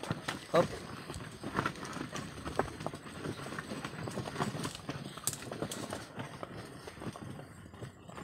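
A carabao (water buffalo) walks along a road, its hooves giving a steady, close clip-clop with scuffing steps, while people talk and call out over it.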